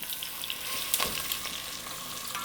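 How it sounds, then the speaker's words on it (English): Chicken pieces laid skin side down in hot oil for braising sizzle and crackle steadily, a dense close fry with small pops throughout and no voices. "So you hear that sizzle? You want to get that sizzle."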